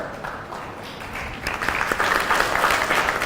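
Applause from an audience at a temple talk, starting as a soft murmur and swelling about halfway through into a fuller, denser burst of many hands clapping, with no speech over it.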